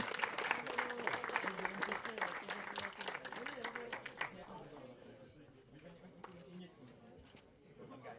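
Applause and clapping for a gold medal winner at an awards ceremony, dense and lively for the first four seconds, then thinning to scattered claps under a murmuring crowd.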